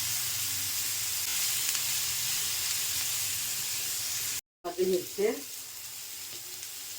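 Steady sizzling hiss of thinly sliced, salted onions frying in a pan, broken by a brief cut and a short spoken word near the end.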